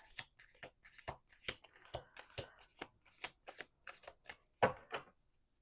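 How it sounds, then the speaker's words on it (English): A deck of tarot cards is shuffled by hand, a quiet close series of crisp riffles and slaps in an irregular rhythm, with no talking over it. "we're going to do one more shuffle"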